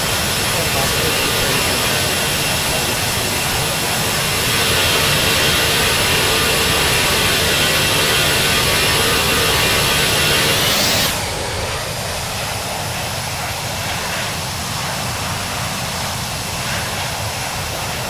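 Jet airplane engines roar in a steady, loud hiss and rumble heard from inside the cabin, dropping slightly in level partway through and then continuing evenly, with a voice speaking faintly beneath.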